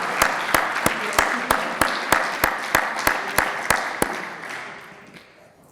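Slow, evenly spaced claps ring out at an inventor event in Kansas, roughly a dozen distinct hits over a light bed of applause that fades out at the end.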